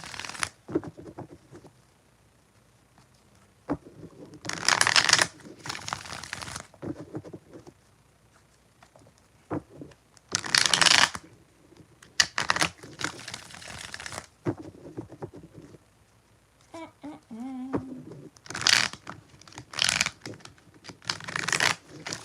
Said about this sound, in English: Alright, 4 more shuffles for Phoenix Deco.